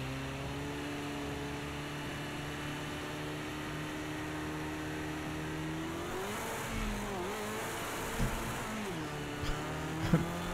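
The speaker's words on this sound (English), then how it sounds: "Listen to that engine." A race car engine in the Project Cars 2 video game, droning at steady revs with a smooth tonal whine, then rising and dipping as the driver shifts and lifts, with a few small knocks near the end; no voices.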